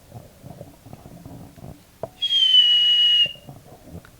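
A single clear, steady whistle rings out for about a second, loud and close, after some quiet background shuffling.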